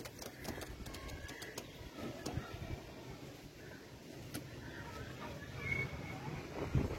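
Pigeons at a loft coo faintly amid a noisy, busy background, with low murmurs and scattered sharp knocks through the stretch.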